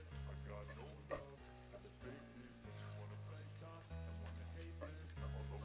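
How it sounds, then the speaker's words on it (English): Mushrooms, green onion, and green and red peppers stir frying in a pan, a steady close sizzle with occasional stirring scrapes and a low hum under it. "It's like you stir frying veggies."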